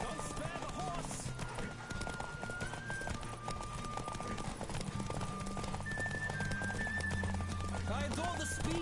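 Rapid galloping hooves drum steadily from a horse in The Witcher 3, a fantasy video game, blended with background music and occasional spoken voices throughout.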